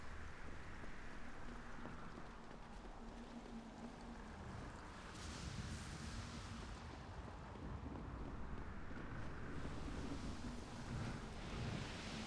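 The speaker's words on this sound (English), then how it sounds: "Storm seems to be calming down." A storm in the video game Deus Ex: Human Revolution rolls on as a continuous roar of wind and rain with low rumbling thunder swelling midway, dense and steady, with no voices.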